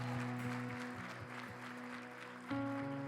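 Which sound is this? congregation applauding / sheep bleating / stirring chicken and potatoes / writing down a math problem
congregation applauding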